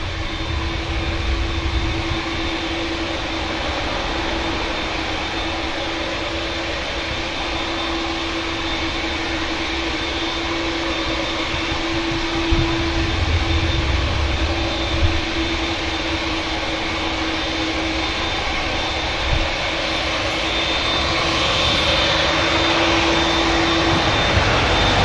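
An Aer Lingus A321neo airliner touches down at Manchester Airport after a flight from Dublin, making a steady, moderately loud jet rumble with a faint engine whine and a few small thumps, and no one talks.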